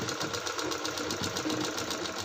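A sewing machine stitches a joint between two cut pieces of fabric, its motor running in a fast, steady mechanical rhythm, close and continuous with no talking.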